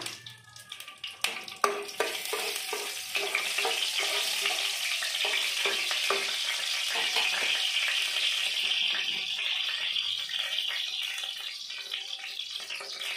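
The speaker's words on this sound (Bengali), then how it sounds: "দিয়ে দেব একটু তেল, একটা শুকনো লঙ্কা" A dried red chili dropped into hot oil sets off a few sharp crackles and clatters, then settles into a steady, bright frying sizzle that carries on to the end.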